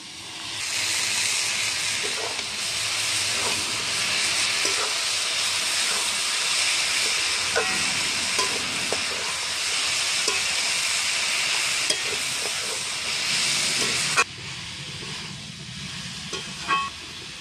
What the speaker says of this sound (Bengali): এবার আমি দিয়ে দিচ্ছি সিদ্ধ করা মোচাটা।